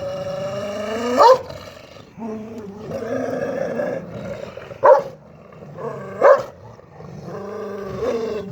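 Several male dogs fighting over a female growl and snarl in a low rumble, broken by sharp, loud barks at intervals as they scuffle nearby.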